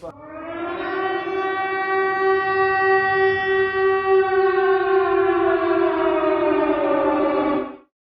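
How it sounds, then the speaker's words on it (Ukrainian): Air raid siren interrupting a school lesson, a single loud sustained wail that rises, holds steadily for several seconds, then cuts off abruptly, with no talk. "Як раптом урок перериває повітряна тривога."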